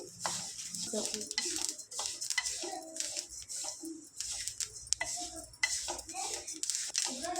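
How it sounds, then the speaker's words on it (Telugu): Sesame seeds dry-roasting in a pan over a medium gas flame, a steady run of scraping, stirring and light clinking from a utensil against the pan, close and busy throughout with a voice faintly in the background. "మళ్ళీ నువ్వులు కూడా దూరగా వేయించుకోవాలి గ్యాస్ మీడియంలో పెట్టి"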